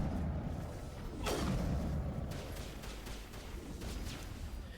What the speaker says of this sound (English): let me fire from my gun